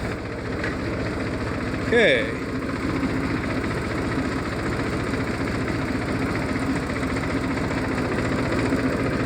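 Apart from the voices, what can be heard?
tractor engine idling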